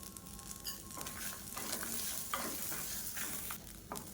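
Grated coconut roasting in a pan with curry leaves and salt, a steady dry sizzle broken by repeated scrapes and stirs of a spoon, close and moderately loud with no talking.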